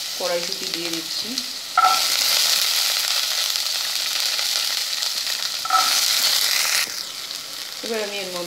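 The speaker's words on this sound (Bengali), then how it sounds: "কড়াইশুঁটি দিয়ে দিচ্ছি" Green peas tossed into a hot wok with ginger paste, cardamom and cumin seeds set off a loud, steady sizzle with occasional stirring scrapes, framed by brief talk at the start and end.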